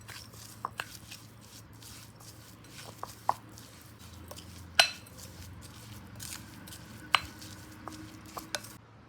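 A spoon stirs sweetener into a bowl for a wheat flour and coconut sweet poli, soft scraping with occasional sharp clinks against the bowl at close range over a faint steady hum.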